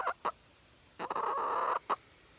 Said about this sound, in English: What's the chicken say?